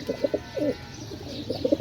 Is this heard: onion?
no